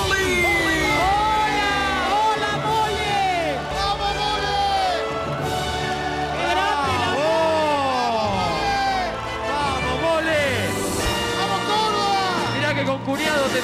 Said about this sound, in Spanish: Fuerte el aplauso para presentar a Fabio La Mole